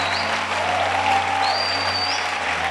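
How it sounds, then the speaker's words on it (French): A church congregation in Mampong, Ghana claps hands together in dense, steady applause that fills the room, continuous and fairly loud throughout with no talking over it. "Clap your hands for Jesus."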